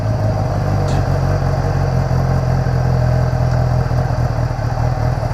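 2015 Kawasaki Ninja ZX10R motorcycle engine running steadily at idle, a loud, close, continuous throbbing rumble with a constant low hum and no break.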